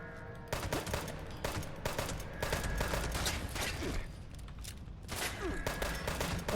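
Rapid bursts of 10 mm pistol fire in the video game Fallout 76, sharp repeated shots in quick clusters with short pauses, fairly faint overall.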